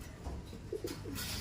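A white flight racing pigeon coos in a short run of soft, low, rounded notes, close by over a steady background hum.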